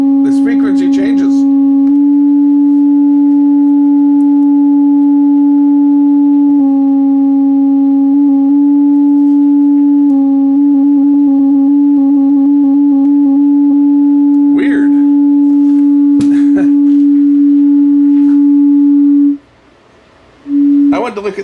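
A TPA3116D2 class D amplifier module plays a loud, steady test tone that shifts slightly in pitch several times. Brief clicks and short bursts of talk interrupt it, and it cuts out near the end.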